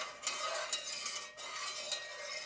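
A metal spoon scrapes and screeches repeatedly against a pot while stirring rice and beans, a harsh rhythmic grating sound up close, with no talking.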